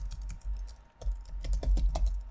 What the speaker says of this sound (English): we're going to type in light